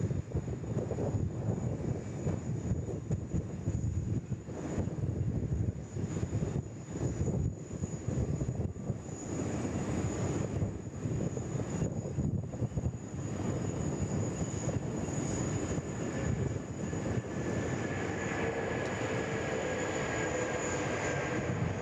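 A Garuda Indonesia airliner, flight 713, roars at Sydney Airport. Its jet engines make a sustained, moderately distant rumble with wind buffeting, and a whine rises in the final seconds.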